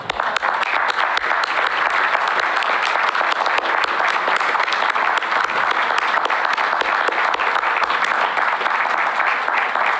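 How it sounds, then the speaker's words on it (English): Steady, full applause from an audience at a college commencement ceremony, a dense continuous wash of clapping lasting throughout without pause. "please stand so that we may honor you with our applause"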